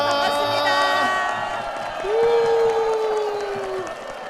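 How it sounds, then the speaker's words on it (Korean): Church congregation at Icheon Full Gospel Church applauding and cheering, a dense sustained roar of clapping and whoops from a large indoor crowd, with sustained tones ringing through it. "정말 뜨거운 환호 감사합니다"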